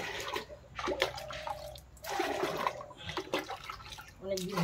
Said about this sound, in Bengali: দাঁড়াও গরম জল খুলি